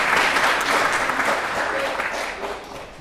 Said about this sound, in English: Can we have a round of applause for Stephen?